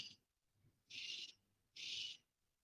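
Birds call outdoors in three faint, separate high-pitched bursts, each under half a second, with quiet gaps between them and no talking.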